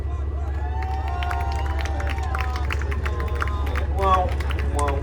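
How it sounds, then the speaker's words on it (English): A live audience at a World of Tanks show event in a museum hall hoots, hollers and claps, a steady crowd roar with scattered whistles and whoops, loud and continuous. "with hoots and hollers and clapping, that Ikabu's M60 crew won"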